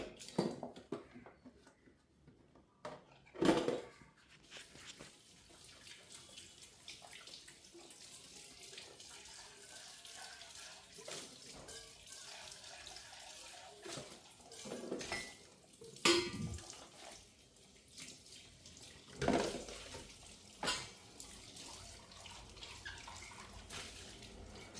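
Dishes, a small mixer jar and glasses are washed at a sink under a running tap, with quiet water flow and scattered clinks and knocks, fairly faint and without talk.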